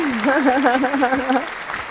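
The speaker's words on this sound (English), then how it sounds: "Nice slow applause there." Soft crowd applause hisses in the background of an online show while a warbling, vibrato voice carries over it for most of the stretch before fading out.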